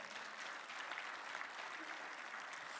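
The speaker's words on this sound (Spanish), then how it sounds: "Denle un aplauso al Señor." A church congregation applauds during a sermon, with steady, continuous clapping throughout that stays at an even, moderate level with no voices breaking through.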